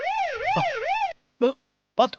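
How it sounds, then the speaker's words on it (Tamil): An ambulance siren wails in a loud, rising and falling sweep for about a second in a Tamil television drama scene, then stops abruptly as a person speaks briefly. "ஆம்புலன்ஸ் சத்தம் கேக்குது"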